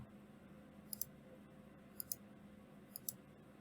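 Computer mouse clicks while working in CAD software, three pairs of faint, crisp double clicks spaced about a second apart over a steady low background hum.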